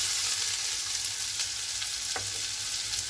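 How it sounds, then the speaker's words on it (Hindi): Chopped tomato and onion frying in a pan with cumin, a steady bright hiss of sizzling oil, close and even throughout, with a faint stir or knock partway through. "अब इसमें जो काटा हुआ टमाटो और कांदा है वो दे देता हूँ।"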